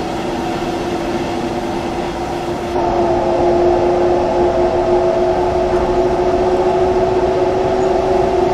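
Inside a double-deck passenger coach pulled by a BR146.2 electric locomotive in Train Sim World 2, a steady rail rumble with a constant tonal hum, growing slightly louder partway through and holding on.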